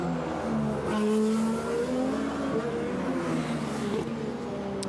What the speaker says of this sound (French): Romain Grosjean qui connaît un problème sur sa Lotus, rappelé par son ingénieur au stand à petite vitesse.